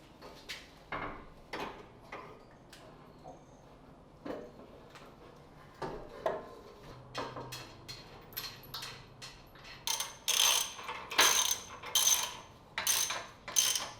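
Ratchet wrench tightening bolts to mount a winch on a 4WD bullbar: a run of quick, sharp ratcheting clicks in irregular bursts, growing louder and denser toward the end, with no talk.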